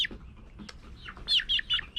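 Near and brief, a two-week-old Speckled Sussex chick gives a quick run of shrill, high squawks, about four or five sharp calls over light background noise.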